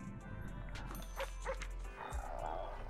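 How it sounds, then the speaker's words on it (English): A dog barks and yips a few times in the video game Zenless Zone Zero, short sharp calls over a steady game background hum, with a faint voice briefly underneath. "Wait, actual dog walking here?"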